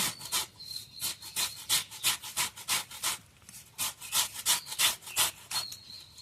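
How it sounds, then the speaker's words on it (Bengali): A knife slices onions into thin strips for potato and onion pakoras, each cut a quick rasping stroke in a steady, rapid rhythm, close and clear with no talk. "পেঁয়াজগুলোকে গ্রেটারে না ঘষে আমি এরকম সরু সরু করে একদম কেটে নেব।"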